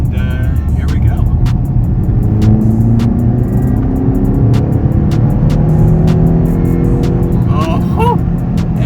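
A 2017 BMW X5M in Sport Plus mode accelerates hard, its engine roaring loud and steady with rising tones as it pulls through the gears, under heavy cabin and road rumble.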